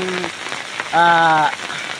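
Rain falls steadily during a mountain trip under dark skies, a continuous close hiss of drops on surfaces, with a person's voice heard briefly over it.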